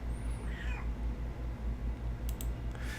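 A pet cat meows softly indoors, a couple of brief, faint calls over a steady low hum and light background noise.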